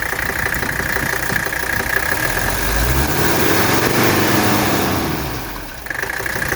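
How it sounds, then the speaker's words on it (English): A 1983 Mercedes 300CD diesel engine running at idle during a blow-by test, a steady close rumble with clattering diesel knock and a swell of lower noise partway through. "Let's do a blow-by test on the engine."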